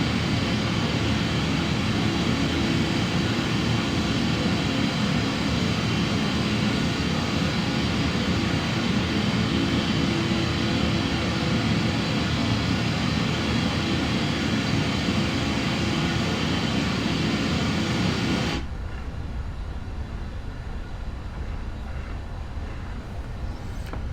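Boeing 777 jet engines in the PMDG flight simulator game, a steady, loud broadband roar while taxiing that continues unbroken before dropping to a quieter, thinner hum near the end.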